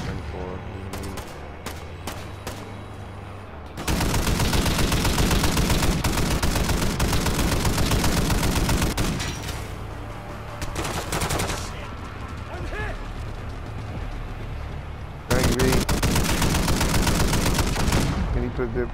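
Mounted machine gun in Call of Duty: Modern Warfare II fires in long, loud sustained bursts, a dense rattling roar with short pauses between volleys and a final burst near the end, while players talk over the gunfire at times.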